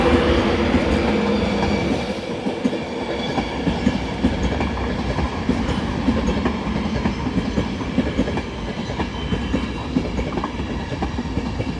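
An LNER InterCity 225 train with a Class 91 locomotive pulls into Doncaster station on the East Coast Main Line, its wheels rumbling and clattering loudly and continuously over the rails without any talk.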